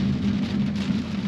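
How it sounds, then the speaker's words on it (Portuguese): Heavy rain drums steadily on a GWM Ora 03 GT electric car as it drives along a highway, a dense, constant hiss with a low road rumble underneath and no voices. "Às vezes a gente pega uma chuva brava que nem essa aqui, que tem que diminuir bastante a velocidade."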